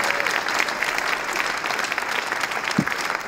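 An audience claps at the ribbon cutting for a campus for animal care's grand opening, a short, dense burst of steady applause heard close by.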